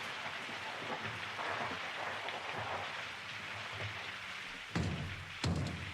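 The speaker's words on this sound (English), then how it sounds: "I thought that was clapping. But it's like rain." Steady rain patters continuously in a soft hiss, with a couple of louder sharp thuds near the end.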